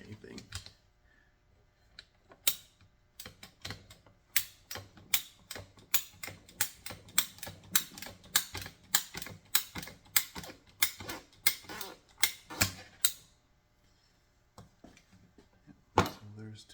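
A cutter works through a flexible pipe on a 3-port diverter valve with a long, steady series of crisp ratcheting clicks, each closely spaced, before the clicking stops and a final snap is heard.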